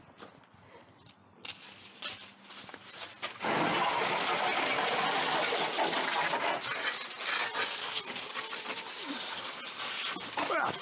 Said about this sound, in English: I'm gonna get some water flying here